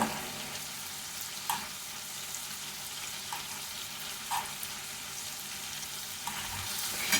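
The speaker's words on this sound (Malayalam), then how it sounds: "നമുക്ക് മീഡിയം ഫ്ലെയിമിൽ ഒരു മൂന്ന് മിനിറ്റ് വീതം രണ്ട് സൈഡും മാറി മാറി ആറ് മിനിറ്റ് നമുക്കിത് വേവിച്ചെടുക്കാം" Prawns fry in a pan over a medium flame as part of a chemmeen roast, giving a steady close sizzle with a few light clicks and stirring taps and no voices.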